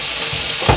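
Sauce sizzling and cooking down in a pan after a splash of alcohol and a pinch of salt, a steady close hiss and crackle with a couple of brief louder bursts of frying.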